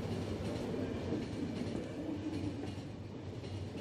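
A train in the video game The Final Station rumbles steadily, a dense low mechanical roar with faint rail clatter holding constant throughout, with no talking.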